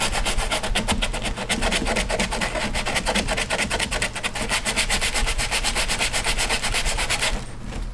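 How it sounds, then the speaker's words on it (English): Steady, rhythmic scraping of a sanding block with 120 grit sandpaper rubbing back and forth over wood, close and continuous before stopping near the end. "Now I'm going to go ahead with a sanding block and just try to even these out"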